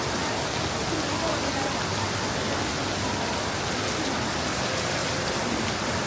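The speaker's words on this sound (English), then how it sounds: "But it's raining." Steady, dense hiss of rain falling continuously in Singapore's Chinatown market, with a faint murmur of voices or street activity buried underneath.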